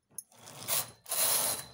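A knitting machine carriage knitting stitches for a cardigan pocket makes two rushing, rattling sweeps across the bed, close and fairly loud, with a faint mechanical click just before the first pass.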